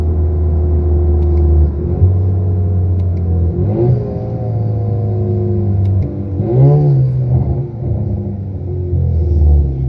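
A tuned 2017 Chevrolet Camaro with a turbocharged four-cylinder engine rumbles loudly up close, its revs rising and falling in several surges over a steady low drone, with no talk.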